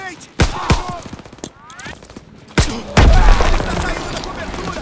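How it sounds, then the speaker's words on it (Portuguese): Gunfire and a grenade blast in the World War II shooter Call of Duty WWII: sharp shots crack early on, then heavy booms hit near the end. Loud battle noise runs under shouted voices. "Arremessando granada!"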